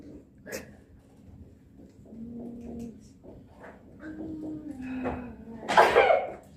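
In a classroom, one sharp, loud sneeze bursts out near the end after a stretch of quiet murmuring and soft voices.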